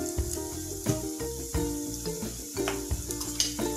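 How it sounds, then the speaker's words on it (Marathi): Tempering for rava upma is sautéed and stirred in a pan, a soft oily sizzle under repeated scraping strokes of a spatula, with tonal metallic clinks ringing between stirs. "पण फोडणी व्यवस्थित परतवून घेऊया।"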